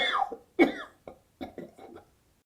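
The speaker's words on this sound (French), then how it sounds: "puis à expirer une énergique toux soufflée" A person gives a forceful huff cough to bring up sputum from deep in the lungs, a few sharp, close bursts with throaty breaths between them.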